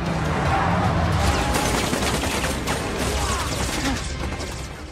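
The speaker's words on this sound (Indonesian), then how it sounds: "Baku tembak pun terjadi." Dense, continuous gunfire and crashing impacts from a film shootout at a border, loud and chaotic, with overlapping shots and bangs filling the whole stretch without pause.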